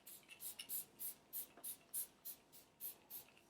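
Quick bursts of a Caudalie Beauty Elixir setting spray misting onto a face, about a dozen short hissing spritzes in an uneven rhythm, close and soft.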